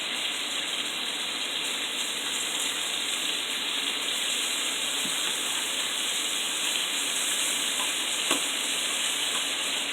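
Bacon frying crisp in a pan for potato soup, a steady dense sizzle and crackle running throughout with a few small pops, close and alone.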